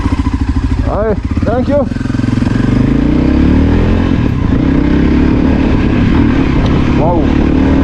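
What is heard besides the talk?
Voge Rally 300 motorcycle riding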